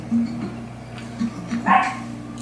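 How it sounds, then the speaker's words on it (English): Dogs bark and yip in a few quick, moderately loud bursts over a steady low hum in a room. "These dogs are pissed because they can't have any pizza."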